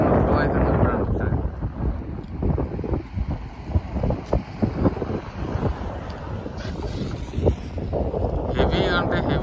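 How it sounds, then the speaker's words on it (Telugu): Heavy floodwater of the Godavari rushes under the Rayapatnam bridge, a broad continuous roar heard from above, buffeted by strong wind gusts against the microphone, with a voice speaking faintly over it. "మొత్తం వాటర్ ఎట్లా ఫ్లో అవుతుంది చూడండి ఒకసారి."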